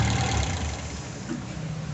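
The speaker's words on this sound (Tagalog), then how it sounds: "So tingnan natin, patayin natin ng makina." A car engine fitted with an Aisan carburetor runs at a steady idle, a low rumbling hum that stays level and close, then fades slightly toward the end as it begins to shut off.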